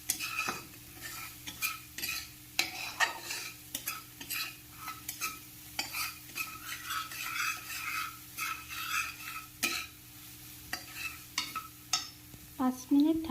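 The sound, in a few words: ground spices frying in a pan for fish curry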